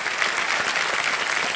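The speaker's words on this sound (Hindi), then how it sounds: "अगर आप सही उत्तर देंगे तो वो ताली बजाएगी।" A studio audience on the game show KBC Season 14 claps in a dense, steady burst of applause that fills the short moment evenly and loudly.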